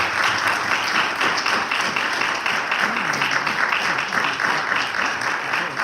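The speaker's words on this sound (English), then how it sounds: "please stand and join me in giving them a big round of applause" Sustained audience applause fills the room for the women leaders of Carver Federal Savings Bank at a Schomburg Center event, dense and steady from start to finish, with a few voices faintly audible beneath.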